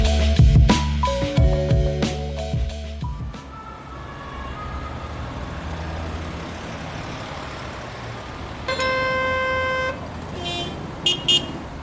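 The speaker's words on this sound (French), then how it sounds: "Béton, chaleur et coups de klaxon." Car horns honking in heavy traffic on the Paris ring road: several loud overlapping toots in the first few seconds, a quieter traffic drone, then another long horn blast and a few short beeps near the end.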